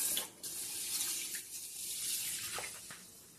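Soaked rice and lentils being washed in water for pesarattu batter, a steady splashing and rinsing at a sink with tap water running throughout, close and moderately loud, no talking.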